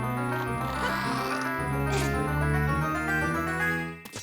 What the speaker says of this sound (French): on va ouvrir ce coffre